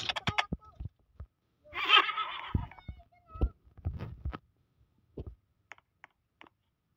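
A horse neighs once in the Roblox game Brookhaven, a clear whinny around the middle of the clip. Someone talks before and after it, with clicks from play.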